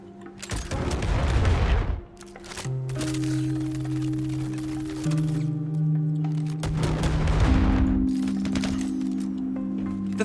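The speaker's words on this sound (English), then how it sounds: "Matt just happened to have with him an Animus missile launcher." Animus missile launcher firing in Star Citizen inside Klesher Prison: a loud blast at the start, then steady droning hum with shifting tones and another roaring burst later, loud and continuous.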